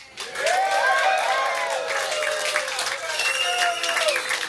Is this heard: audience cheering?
yes